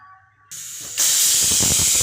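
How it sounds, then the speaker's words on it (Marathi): A pressure cooker whistle, its second while steaming idli, bursts out with a loud, steady hissing blast that builds after a short pause and keeps going. "कुकरची दुसरी शिटी झालेली आहे"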